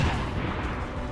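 A single dull boom from an explosion in the turn-based strategy game XCOM 2, with a muffled low rumble trailing off briefly.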